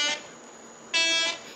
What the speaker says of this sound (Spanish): Y aquí miren esa bocina. Maravillosa bocina.